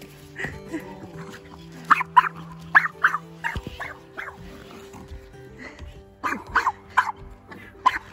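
A small dog barks and yips in short bursts indoors, with pauses between volleys, fairly close and loud against a quiet background.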